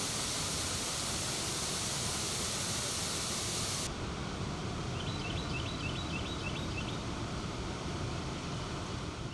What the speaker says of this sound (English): The picturesque nature of waterfalls perhaps overshadows another element of their popularity, their sound.